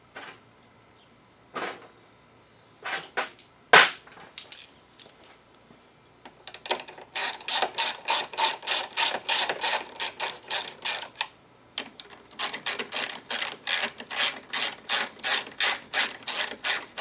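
Ratchet tightening two 10mm nuts with built-in washers that hold the coolant reservoir on a 2010 Audi Q5, heard as a few isolated clicks, then long, steady runs of rapid, close, crisp pawl clicking with a brief pause between them.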